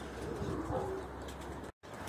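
Pigeons cooing at a loft, soft low murmuring coos near and faint under light background noise, with a brief dropout near the end.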